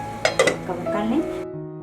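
A metal lid clinks down onto a pan of achari bhindi (pickle-spiced okra) in a home kitchen, with a couple of sharp clanks followed by faint rattling, while a voice speaks over it.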